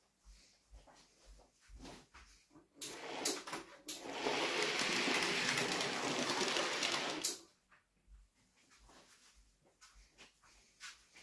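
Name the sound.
model train running over track points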